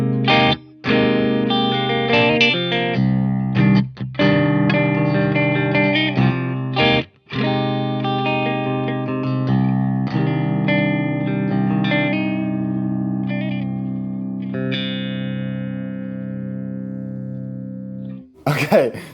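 Electric guitar played through the clean channel of an Engl metal tube amp head with no pedals or effects: strummed chords and picked phrases ring out loud and steady, with brief pauses between passages.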